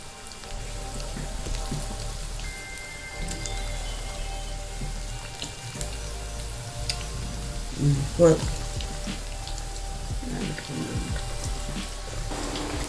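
Cauliflower 65 deep-frying in a pan of hot oil gives a steady, rain-like sizzle and crackle with occasional louder pops, heard under a person talking.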